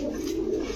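Pigeons at a shop selling Giribaz, racer and Lahori birds give a soft, throaty coo, a short, low, rolling call close by with no talk over it.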